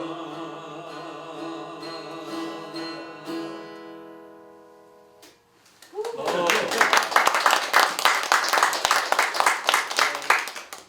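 Audience applause breaks out after a harmonica performance at a commemorative event, following a sustained harmonica note. The clapping is dense, loud and steady from a full crowd.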